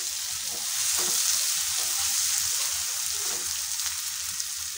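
Paneer sizzling and frying in hot oil while the butter paneer masala is stirred, a steady close crackling hiss with occasional stirring scrapes and no talk.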